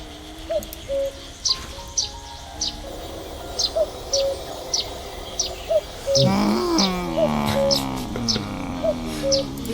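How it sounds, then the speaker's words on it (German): Cuckoo calls in the point-and-click video game The Night of the Rabbit, repeated two-note calls at a regular pace over soft game ambience, with other bird-like chirps and a tonal musical passage joining partway through. "Wie sollen wir denn den Kuckuck beruhigen oder leise machen?"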